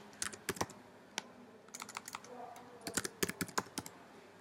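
Typing on a computer keyboard, quiet and close, with irregular clusters of crisp key clicks over about four seconds, alone with no talk.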